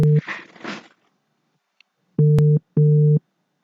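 A telephone line busy signal heard while dialing: two steady, loud tone bursts with a short pause between, following a brief burst of noise and a faint click.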